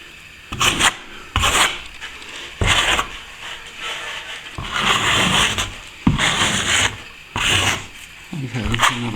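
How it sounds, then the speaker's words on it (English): A tool scrapes a cracked plaster ceiling joint during repair, giving repeated short rasping strokes in a steady rhythm, close and fairly loud, with brief pauses between passes. "Just scraping a bit."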